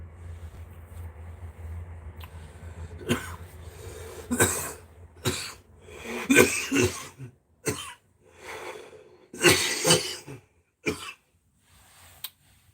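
Repeated harsh coughing fits close to the microphone, several bursts separated by short pauses, with a throat clear near the end.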